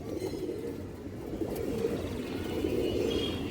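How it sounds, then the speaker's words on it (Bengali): Pigeons coo steadily in a loft, a low continuous murmur of several birds close by, with faint chirps over it. "খুবই সুন্দর কবুতর"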